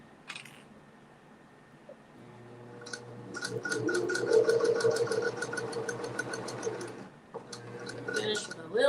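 A sewing machine stitches slowly over a bulky seam, giving a rapid, even run of mechanical clicks that builds, holds for several seconds and then stops, with a few quieter handling sounds before and after.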